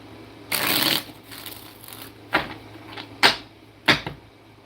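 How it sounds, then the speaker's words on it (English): Tarot cards being shuffled up close: a longer riffle followed by several short, crisp snaps and taps of the deck, with quiet pauses between. "One more shuffle."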